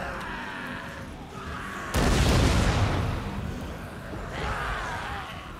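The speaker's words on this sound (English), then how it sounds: "Cannons are firing." Cannons firing in a battle in Total War: Warhammer II, a heavy booming blast that rolls out over continuous battlefield noise, with a lighter crackle of fire following.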